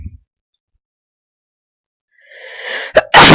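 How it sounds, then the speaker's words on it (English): A single loud sneeze from a man indoors, preceded by a rising breathy inhale that builds for about a second before the sharp burst, with near silence before it. "I don't know why I started sneezing."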